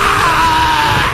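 A mandrake from the Mashle anime lets out a loud, sustained shriek, a continuous high-pitched scream that holds steady for about a second without any break.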